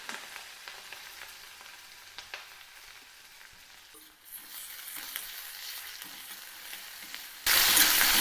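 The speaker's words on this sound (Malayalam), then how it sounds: "ഇഞ്ചി, കറിവേപ്പില, മുളക് ഇതെല്ലാം ഒന്നിട്ട് കൊടുക്കാം." Ginger, curry leaves and chili sauté in hot oil in a pan, a steady close sizzle with occasional stirring scrapes, then a sudden louder burst of hissing near the end.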